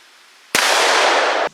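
A single .357 Magnum handgun shot strikes a light steel target: a sudden loud blast and impact that rings for about a second before cutting off, heard alone against faint outdoor background.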